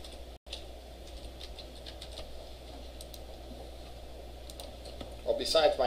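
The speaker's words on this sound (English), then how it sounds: "besides my terrible typing here" Light clicks of typing on a computer keyboard during a web and database lecture, faint and intermittent over room noise, with a burst of louder keystrokes near the end.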